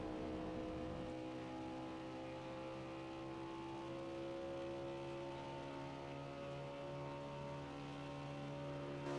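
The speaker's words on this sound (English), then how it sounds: "I can hear the throttle input, and I can hear the off throttle input" Race cars at a Kansas oval lapping steadily, engines droning and whirring with throttle lifts and reapplications through the corners, a continuous loud mechanical hum with no talk over it.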